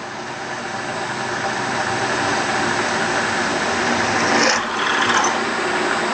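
A drill press bores a hole through a steel sawmill part in a shop, a steady whirring motor drone with a thin constant whine, one brief dip near the end.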